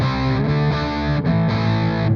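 Electric guitar run through a Mesa Boogie amp simulation in Amplitube, a dark, muffled distorted tone with sustained chords played in a few steady strums.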